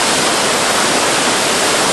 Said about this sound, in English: you really can feel the force of this 20-metre waterfall